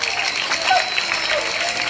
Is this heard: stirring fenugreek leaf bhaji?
no